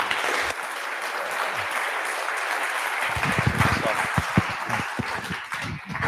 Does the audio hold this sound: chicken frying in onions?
no